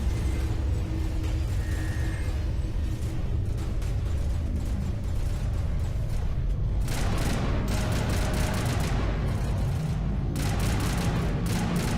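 Assault rifles fire in Mass Effect Legendary Edition, a dense, loud, rapid rattle of automatic bursts. A continuous combat rumble runs underneath, with sharper volleys in the second half.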